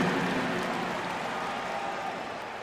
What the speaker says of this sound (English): Let's give a big round of applause for your Lakers youth dance team.